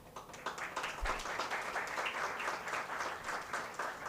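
An audience at a speaking session in Thane bursts into applause, a dense, steady clapping that stays loud and close for several seconds with no voices over it.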